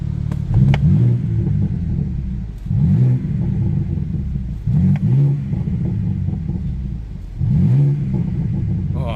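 A 2023 BMW M2 with a manual gearbox revs in four bursts, each engine roar climbing and falling back to a steady idle, loud and close with no talking.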